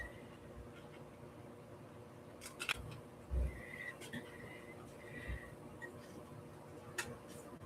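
Scissors trim paper for a handmade steampunk journal, giving a few quiet, scattered snips and clicks over a low background hum, close and faint.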